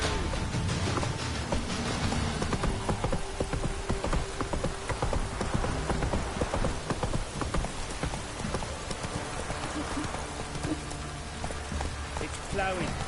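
Steady rain pouring in The Witcher 3 game, a constant hiss of drops on surfaces with horse hooves clopping underneath and faint game sounds mixed in.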